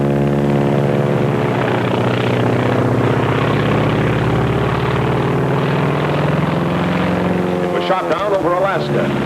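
A Japanese Zero fighter's propeller engine drones steadily and loudly with a strong harmonic hum throughout, with a brief rough disturbance near the end.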